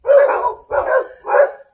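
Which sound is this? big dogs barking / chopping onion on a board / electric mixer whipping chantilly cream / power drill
big dogs barking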